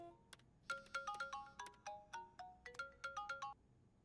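A mobile phone ringtone for an incoming call plays a quick repeating electronic melody of bright chiming notes, heard as several short phrases, quiet and alone.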